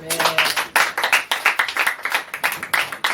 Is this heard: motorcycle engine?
no